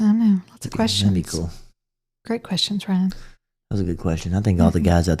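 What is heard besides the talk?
No everyday noise stands out behind the speech.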